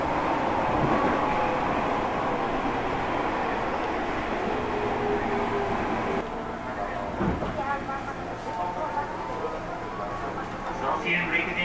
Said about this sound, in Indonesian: kereta yang saya naiki tiba di stasiun Kranji